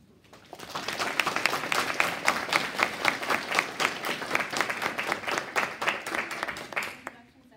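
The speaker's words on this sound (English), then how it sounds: "give her a round of applause" Audience clapping at an academic psychology talk, a steady burst of many hands that rises quickly, holds for several seconds and tapers off at the end.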